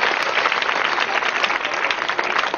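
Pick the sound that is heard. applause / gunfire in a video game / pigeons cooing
applause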